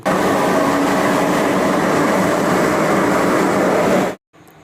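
A metro train at Rabindra Sarobar station in a crowded Kolkata metro system, producing a loud, steady broadband rumble and rail roar that stays level for about four seconds, then cuts off abruptly.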